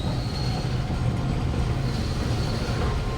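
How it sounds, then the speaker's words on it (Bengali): A freight train rolling past makes a steady, close, continuous rumble with a faint high metallic whine, holding an even level throughout with no talking. "মালগাড়ি।"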